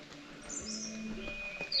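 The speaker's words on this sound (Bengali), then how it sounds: "আর এখানে প্রচুর পাখি আছে," Birds call outdoors on a high, slippery spot: faint, thin chirps and whistles drift in from a distance over a low, steady ambient hum, with no voices.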